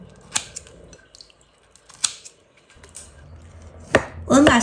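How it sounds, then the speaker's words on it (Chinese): A knife chops shiitake mushrooms on a board into slices and small cubes, giving a few separate, sharp, close chops with quiet pauses between them and a denser burst of cutting at the end. "我们把香菇改刀切成片，然后切成小丁"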